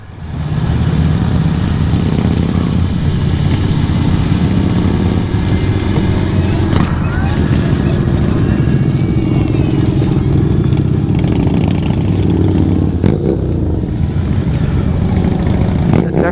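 A loud motorcycle exhaust drones steadily in a ride with a group of motorcycle school graduates, a constant low engine roar with slight revving swells throughout and no pauses.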